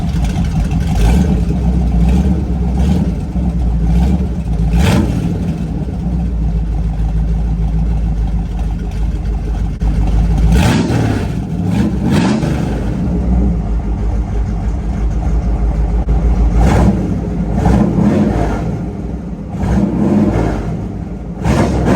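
A 1972 Ford F100 engine revs repeatedly through open header exhaust cutouts, loud and close, with sharp throttle blips surging over a rough idle between them.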